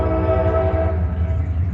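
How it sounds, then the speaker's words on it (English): A train rumbles past close by while sounding its horn, a steady loud blaring tone over heavy low rail noise. "These damn trains."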